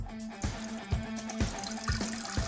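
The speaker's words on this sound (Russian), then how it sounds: "Наливаем в чайничек" Water pours steadily into a small kettle for tea, a continuous splashing trickle with a faint rising tone and soft periodic knocks.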